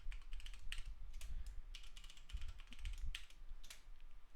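Rapid keystrokes on a computer keyboard while a password is entered, a steady stream of close, crisp clicks with a few heavier key presses, no voices.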